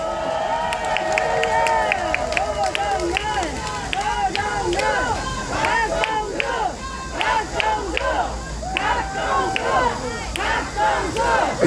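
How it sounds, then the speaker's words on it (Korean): A crowd at an outdoor candlelight protest rally claps and cheers loudly, with chanting and shouted voices rising and falling in waves. The noisy, rhythmic clapping runs throughout. "노정현 박수 한번 쳐주십시오"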